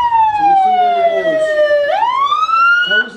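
A police siren wails loud and close, sweeping down in a long tone and then rising again during a staged road-safety crash scenario, with no talk.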